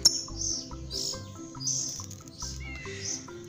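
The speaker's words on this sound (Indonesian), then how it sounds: "Selain burungnya indah ya, punya kicauan yang menarik" A lovebird chirps and tweets repeatedly in quick bright bursts, close and fairly loud, with a steady low background hum beneath the calls.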